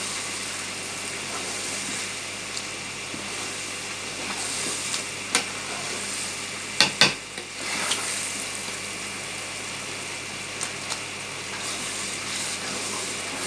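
Marinated chicken for biryani sizzles and fries steadily in hot oil, a continuous close hiss with occasional sharper spatters and a couple of stirring clatters midway.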